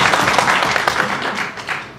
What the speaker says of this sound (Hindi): उनके लिए भरपूर तालियां होनी चाहिए।